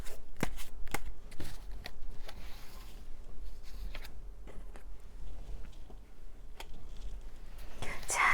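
Tarot cards are shuffled by hand before a lucky card is drawn, with repeated crisp riffling and snapping bursts at close range, irregular in rhythm, under faint soft background noise.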